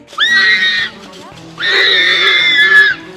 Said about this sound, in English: you can hear the warthog squealing in the video